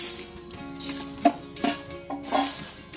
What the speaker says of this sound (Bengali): এই খইটা আমি এখানে ঢেলে দেবো।